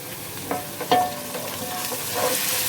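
Onions frying in a pan with ginger garlic paste, a close steady sizzle with a few scraping stirs of a spoon, no talking.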